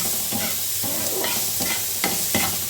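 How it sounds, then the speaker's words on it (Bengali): Onions fry in a pan with a loud, continuous sizzle. Close, repeated spatula strokes stir and scrape at a steady pace. "পেঁয়াজটাকে আমি ততক্ষণ পর্যন্ত ভাজবো যতক্ষণ না একটা সুন্দর গন্ধ বেরোচ্ছে পেঁয়াজ ভাজা"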